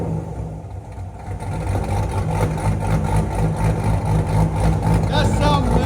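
Exhaust of a Chevrolet Corvette C7 hardtop convertible with headers and straight pipes, heard from inside the cabin as a loud, steady rumbling engine drone that swells and rises in revs toward the end.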